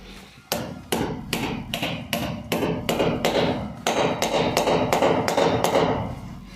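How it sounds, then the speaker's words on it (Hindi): Nail driven into a wall with a small hammer from a budget camping toolkit: about fourteen sharp, evenly spaced hammer blows, loud and close, with no talking. "इस कील को हम अब दीवार में लगा के देखते हैं कि देखिए ये जो हमारी हैमर है वो कितना काम करती है।"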